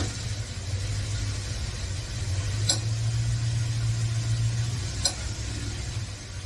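A car drivetrain rumbles steadily under load, with a couple of sharp pops standing out about two seconds apart over the continuous hum.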